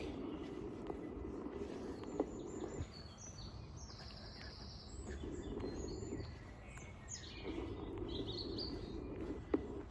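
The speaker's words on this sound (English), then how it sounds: "All the birds are singing." Several birds sing and chirp outdoors along a path near Melrosegate Bridge, with scattered bright calls over a steady low rumble of distant traffic. No one speaks.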